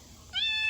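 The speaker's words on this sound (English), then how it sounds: "There's a cat pitching a fit." A stray cat on a farm with Kunekune pigs lets out a single loud, rising meow, short and close, over a faint background hum.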